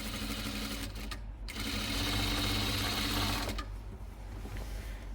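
A sewing machine stitches the seam of a plus-size nightie with a steady, rapid mechanical whir, pausing briefly once before running on continuously and close up.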